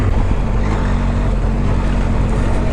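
A Benelli TRK502X motorcycle ridden off-road on rough, bumpy terrain: a loud continuous engine roar mixed with heavy wind buffeting on the microphone, steady and close.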